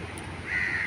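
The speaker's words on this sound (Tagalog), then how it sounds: "Yan ang uwak, oh." A single short caw of a crow, harsh and brief, heard over steady background noise.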